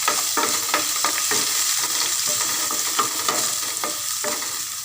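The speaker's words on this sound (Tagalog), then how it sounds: "Magigisa na tayo." Garlic sautéing in a little oil in a pan, a loud continuous sizzle broken by frequent scraping stirs, with no talk.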